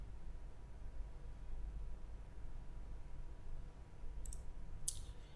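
Two quick, faint computer mouse clicks starting a PSpice circuit simulation, heard near the end over a quiet low background hum, with no talking.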